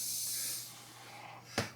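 An airbrush sprays metal paint onto a 1/48 M1A2 Abrams model: a short, faint hiss of about half a second that fades out, then a brief soft thump.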